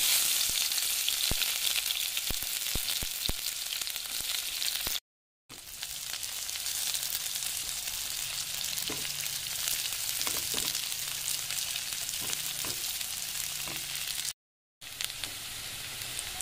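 Chopped onions and dried chillies fry in hot mustard oil, giving a loud, continuous crackling sizzle with brief spits and stirring scrapes, interrupted by two short silences.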